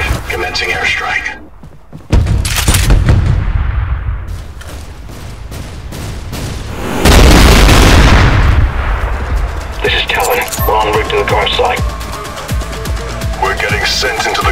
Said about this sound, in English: Commencing airstrike.